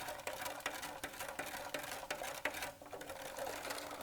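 A spoon stirs sugar into cold blackberry wine in a steady, rhythmic run of quick soft ticks and swishes, close but faint.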